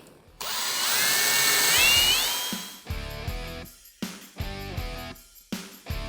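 Power drill cutting off rivet heads: a long, loud whine that rises in pitch, followed by several shorter, choppy bursts of drilling in quick succession.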